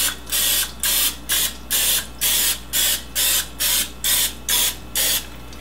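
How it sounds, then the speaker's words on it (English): Cooking spray misted onto a muffin tin for low-calorie wonton cups, heard as about twelve short, even hissing bursts in a steady rhythm, close and clear with no talking. "then you're going to spray the muffin tin"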